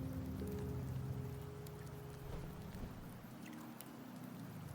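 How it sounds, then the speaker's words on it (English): Steady rain falling in Septimont, a rainy area of the video game Wuthered Waves, forms a continuous wash of patter that stays even in loudness throughout, with a low hum of ambient game sound beneath it and no talking. "The rains in Septimont never seem eager to leave this season."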